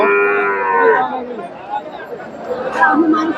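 A cow lets out a loud, drawn-out moo up close at a cattle market, followed by a busy crowd murmuring with people talking in the background.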